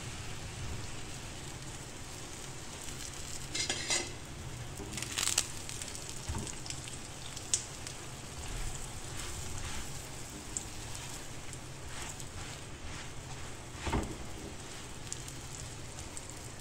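Paratha sizzling in ghee on a tawa griddle, a steady soft crackling hiss throughout with occasional small pops, faint and continuous with no talking.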